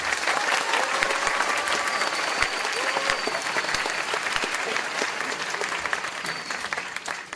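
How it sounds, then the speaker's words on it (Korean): An audience at a lecture hall special talk applauds steadily, a dense patter of many hands clapping at moderate volume with no one speaking. "큰 박수 부탁드립니다."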